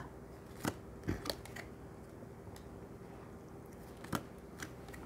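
Tarot cards being flipped over and set down on a table one by one, giving faint, sharp snaps and taps at irregular intervals over a quiet background.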